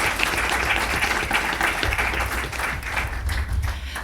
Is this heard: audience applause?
yes